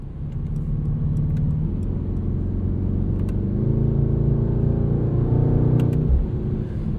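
A 2020 Mercedes-AMG GT 63 S is driven on the road, its engine giving a steady low rumble from inside the cabin with a gentle rise in pitch as it accelerates.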